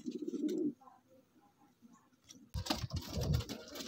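A pair of teddy pigeons coo close by, with a soft throaty coo at the start, quiet pauses, then louder fluttering and cooing toward the end.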